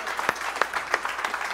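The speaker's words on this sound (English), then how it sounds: "Give the Lord a hand clap as you're seated." A church congregation gives a brief hand clap during a Sunday worship service, a few sharp claps rising out of a busy room murmur, loud and close, lasting only a moment.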